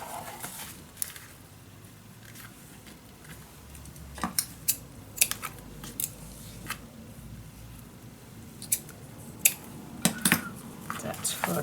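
Scissors snipping paper strips for a Roaring Twenties mini album in a box, a run of sharp, close clicks and snips scattered through the clip over a soft room background.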